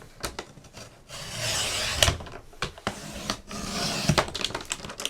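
A paper trimmer cuts through a folded file folder, with repeated raspy scraping strokes of the blade separated by short clicks and thumps, close and clear with no talking.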